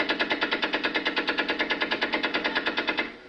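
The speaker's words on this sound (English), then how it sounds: "Some of the Federal Army's equipment is distinctly vintage, like these Vickers machine guns introduced into the British Army in 1916." A Vickers machine gun fires a long sustained burst of evenly spaced rapid shots, steady and rhythmic, which cuts off with a short fading tail.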